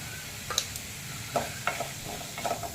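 Tomatoes sauté briefly with turmeric in a pan for gooseberry rasam, giving a faint, steady sizzle broken by a few soft scraping stirs.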